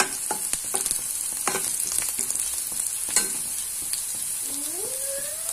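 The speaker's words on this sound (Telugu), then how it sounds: "చూడండి, ఆనియన్స్ ఎలా ఫ్రై అవుతుండగా" Finely chopped onions frying in a pan for cabbage Manchurian, a steady crackling sizzle punctuated by repeated sharp scrapes and clinks of a spatula stirring, close and with no talking.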